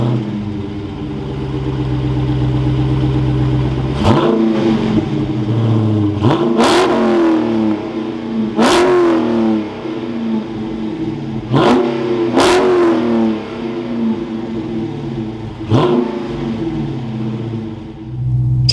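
A 2023 Dodge Challenger R/T Scat Pack with its 392 V8 fires up into a loud, deep idle, then gets a series of sharp, close revs that rise and fall roughly every two to four seconds.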